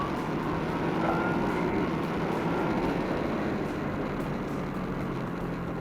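A Yamaha XSR 900 motorcycle engine on an open road, a steady broadband roar with a rising tone as the rider opens the throttle, with wind noise close to the microphone and no talk.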